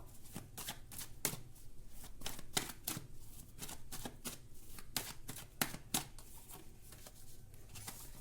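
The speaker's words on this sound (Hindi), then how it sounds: "ये इतने इतने कार्ड्स क्यों गिर रहे हैं मुझे नहीं पता" Tarot cards being shuffled, some falling out of the deck, make a quick, uneven series of crisp, close-up snaps and flutters over a faint background hum.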